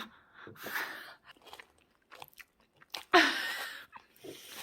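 Someone eats a home-cooked meal in a kitchen, with close, wet chewing and crunching bites in irregular bursts, one loud crunch near the end, and brief murmured voices between bites.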